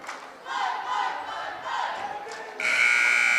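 A student section and cheerleaders cheer and yell loudly at a JV basketball game between the Alton Comets and Dora, with waves of crowd noise ending in a sustained, bright buzzer-like tone.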